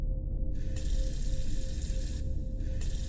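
A tap runs steadily with very cold water, a continuous splashing stream at close range that carries on alone without voices.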